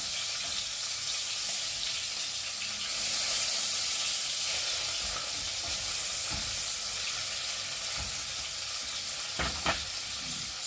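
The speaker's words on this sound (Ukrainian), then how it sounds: "Ось так смажиться м'яско, вижарюється зовсім, витоплюється." Steady, dense sizzling of pork fat rendering in a hot pan, continuous and close, with a few brief clinks and scrapes near the end.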